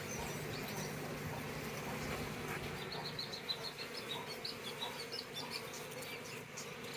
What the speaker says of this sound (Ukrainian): І одна вже генерація бджіл виходить